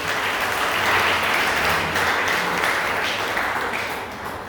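A church congregation applauds in praise, a dense, steady wash of many hands clapping at once that holds strong throughout and eases slightly toward the end.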